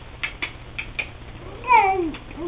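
A single drawn-out cat meow sounds close by near the end, after a few short vocal chirps and quiet gaps.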